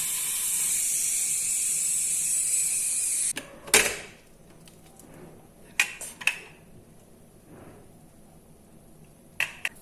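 A pressure cooker used to boil corn vents its steam in a loud, steady high hiss that cuts off abruptly after a few seconds, followed by scattered sharp metallic clicks and taps in quiet.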